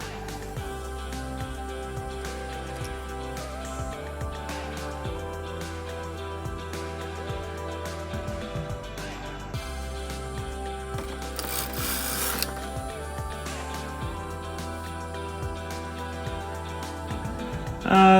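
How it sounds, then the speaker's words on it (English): A Knitmaster Mod 100 knitting machine whirs and clatters steadily as knitting is cast off, a continuous mechanical rattle with faint clicks and a brief rasping swell near the end. "now I'm just going to cast off or just take the knitting off the machine"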